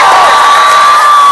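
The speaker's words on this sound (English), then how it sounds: "So how about a cheer for the New York Rangers?" A stadium crowd at Madison Square Garden cheers for the New York Rangers, a loud, sustained roar of many voices filling the whole brief moment.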